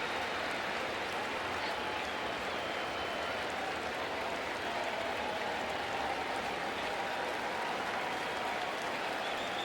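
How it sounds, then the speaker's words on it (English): A Citi Field baseball crowd applauds an injured pitcher, Kodai Senga, leaving the game, a broad steady wash of clapping and cheering from a large stadium audience that holds evenly throughout. "Gets a nice ovation from the Citi Field crowd as he gingerly makes his way down the dugout steps."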